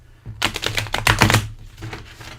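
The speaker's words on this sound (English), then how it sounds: "let's go ahead and shuffle these guys" A deck of Manga Tarot cards is shuffled up close: a quick run of crisp, rattling card flicks and riffles, then a softer patter of cards settling.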